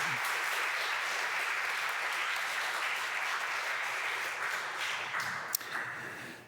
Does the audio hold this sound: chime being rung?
no